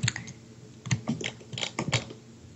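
Loud computer keyboard typing close to the mic, quick bursts of clacky keystrokes in uneven clusters with short pauses, alone without talk.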